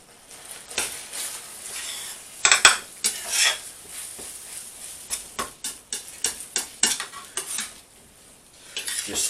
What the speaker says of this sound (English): Right, I'm going to stir this up and I'll come back in a moment